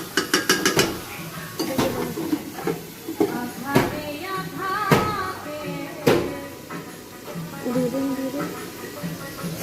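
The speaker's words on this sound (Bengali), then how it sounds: "এখন একটু লাড়াচাড়া দিয়ে ঢেকে দিব" Metal spoon clanks and scrapes against a pot of curry during stirring, with sharp clinks, then the lid is set on; a voice talks over the kitchen clatter.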